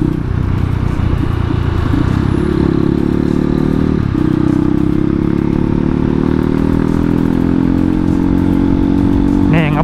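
Kawasaki KLX with a 200cc bore-up in supermoto trim speeding on a morning ride, a loud steady engine drone with wind rush filling the whole stretch, pitch rising slightly as it pulls, with a voice talking faintly over it.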